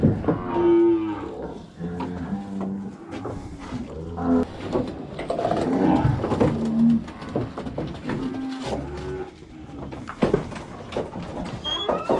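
Several loud, drawn-out moos from cattle at a farm during herd handling, repeated across the stretch with nearby farm noise and no talking.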